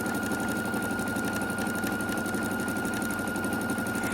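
A sewing machine stitching long strips of fabric scraps together for a beginner strip quilt, a steady rapid mechanical whir and chatter running unbroken at close range.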